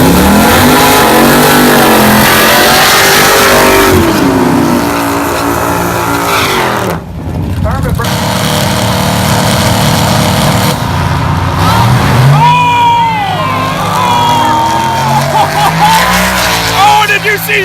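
A turbo LS-swapped Mustang race car revs and accelerates hard at a drag strip, with loud engine roar, shifting pitch sweeps and brief tire squeal, as people talk excitedly over it.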